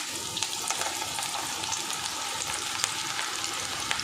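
Onion pakoda frying in hot oil, a steady dense crackling sizzle with scattered sharp pops throughout, close and continuous with no talking.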